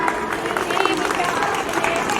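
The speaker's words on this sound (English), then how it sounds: "Audience, please clap for them." Spectators at a school annual sports day give brief, continuous applause for prize winners, a busy, even patter of many hands at moderate loudness.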